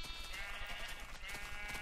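Sheep bleating in the video game Minecraft on Xbox 360, a steady, continuous bleat held close and loud for about two seconds with a slight wavering pitch, heard alone with no talking.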